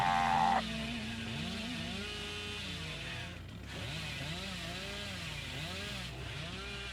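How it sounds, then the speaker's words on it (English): A chainsaw in the Dead by Daylight video game revs and whines with rising and falling pitch sweeps over steady engine drone, close and continuous, with no talking. "I'll try to do the chainsaw thing."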